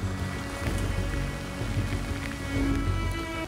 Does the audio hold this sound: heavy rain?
yes